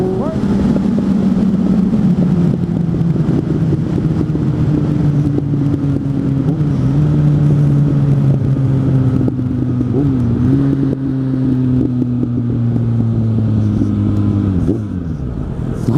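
A Suzuki GSF 600 N motorcycle engine drones loudly up close while riding across a field, with a couple of quick blips in pitch along the way and a sharp drop as the throttle closes near the end, buffeted by wind.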